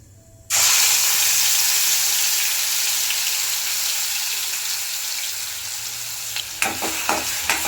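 Mustard seeds and cumin spluttering in hot oil while cooking a simple black-eyed pea (chawli) bhaji. A loud, steady sizzle bursts in abruptly after a short silence and hisses on, with a few sharp pops near the end.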